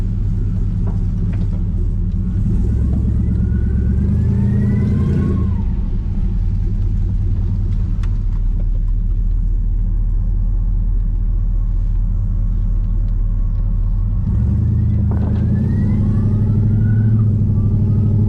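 An LS-swapped Pontiac Firebird engine rumbles steadily from inside the car while driving, with a loud low drone throughout and brief swells around the middle and near the end.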